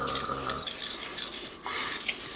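A metal fork stirs a mix of broccoli and cauliflower with cheese and seasoning in a bowl, giving close, quiet scraping and clinking against the dish for a couple of seconds.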